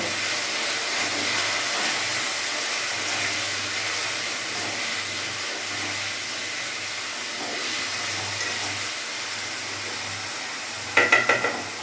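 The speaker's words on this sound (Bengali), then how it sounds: "এক চামচ নুন দিয়ে দেবো চামচ আমি হলুদ দিয়ে দেবো এখন এটা ভালো করে আমি এর সাথে ভেজে নেব" Peas fry in a pan with salt and turmeric for a spiced pea ghugni, giving a steady, close sizzle throughout, with a few sharp spoon clinks near the end.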